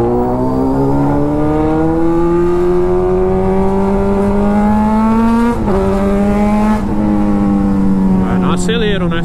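A Yamaha XJ motorcycle's exhaust revs loud and close, its engine note climbing steadily and holding as it rolls along. A short pitch drop follows near the end.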